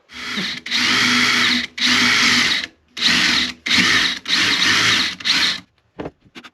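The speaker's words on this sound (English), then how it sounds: "I've drilled an undersized hole to the shaft of my end pin here" An electric drill bores an undersized hole for a guitar end pin, running in a series of loud, steady bursts with short pauses between, whirring close by, then a few faint clicks at the end.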